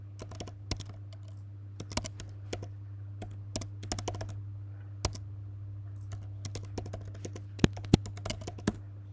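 Typing on a computer keyboard in a CentOS server terminal during FTP setup: sparse, irregular key clicks and occasional sharper taps over a steady low electrical hum, with no one talking.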